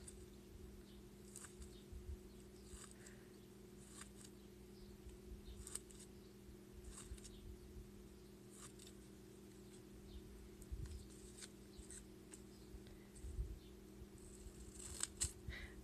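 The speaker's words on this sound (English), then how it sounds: "You make little tiny cuts all the way down to the wire." Quiet, intermittent snips of scissors cutting paper around a wire to make paper feathers, spaced irregularly over a steady low electrical hum.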